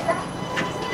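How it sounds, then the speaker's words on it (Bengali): Inside a moving metro train in Malaysia: a low, steady rumble of the carriage with faint rattles, and voices chatting in the background. "সো আমরা এখন আছি মেট্রো রেলের ভিতরে অংশটাতে।"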